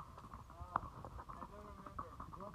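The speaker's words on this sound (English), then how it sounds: "I am on a horse named Linda." Horse hooves clip-clop in a quick, regular rhythm during a horseback trail ride at Chugchilan, close and clear, with people talking over them.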